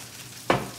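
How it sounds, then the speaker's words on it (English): Lobsters sizzle in a hot pan, a sudden bright burst of hissing that rises sharply and then fades to a quieter crackle over less than a second. "Can you guys hear that sizzle?"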